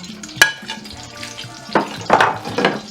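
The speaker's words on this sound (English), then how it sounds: "what I'm going to do is I'm going to mix this, the shrimps and the fish, with the cooked onion and pepper" Shrimp and fish being stirred into cooked onion and pepper in a pan, soft sizzling with a few scraping strokes and a sharp clink of utensil on the pan, close and fairly quiet.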